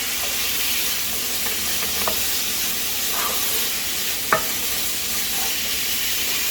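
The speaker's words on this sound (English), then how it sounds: "If you want to smash some of them. Because they're pretty hard." Chickpeas frying and being smashed and stirred in a pan, a steady broad sizzle with scattered scraping clicks and one sharper knock, fairly close and without voices.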